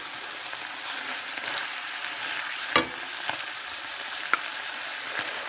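Food being stirred and mixed in a pot while making Mahangu pap and Omutete with pilchard, with a steady sizzle and a couple of soft spoon knocks against the pot.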